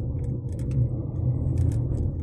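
Heavy road traffic rumbles low and steady nearby, a continuous drone of car engines with faint higher clatter and noises scattered over the top.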